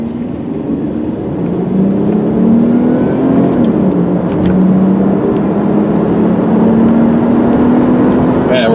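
A 2001 Mazda Millenia S sedan accelerates hard on an open road. Its engine note climbs steadily and drops briefly at each gear shift, then rises again, sustained and fairly loud from inside the car with no talking.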